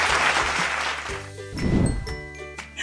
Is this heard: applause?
yes